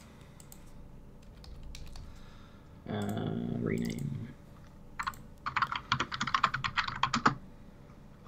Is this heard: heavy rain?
no